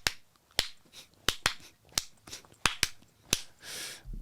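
Sharp clapping beats in a deliberate, uneven sequence, about nine crisp claps spaced across a few seconds, close and alone with no talking.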